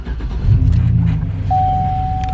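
Pickup truck engine cranking and catching after being switched off, settling into a low steady idle close by, with a thin dashboard chime tone sounding over it.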